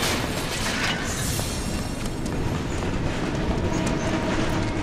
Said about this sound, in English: Where is the train coming from?